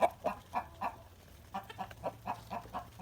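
A rooster clucks in a steady series of short, throaty notes, two bursts of rhythmic clucking separated by a brief pause, fairly close.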